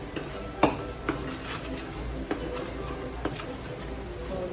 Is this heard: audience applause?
no